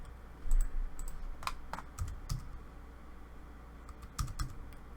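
Computer keyboard typing in short bursts of sharp clicks and key presses, as AutoCAD commands are entered, with a few louder thumps of the enter key over a steady low room hum.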